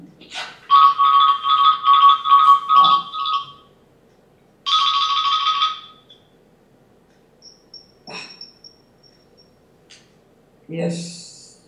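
A telephone rings in a quiet room in repeated electronic bursts, two long trilling rings followed by a few faint clicks and a short voice at the end.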